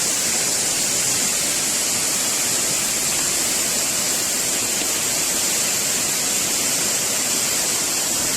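Mae Kampong waterfall in Chiang Mai, Thailand, flowing: a steady, dense roar of falling water, close and loud, continuous and unchanging from start to finish.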